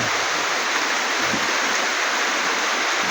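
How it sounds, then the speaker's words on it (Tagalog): Heavy steady rain pours down as a typhoon approaches, a dense continuous hiss filling the whole clip at a constant level with no voices. "Maulan mga guys."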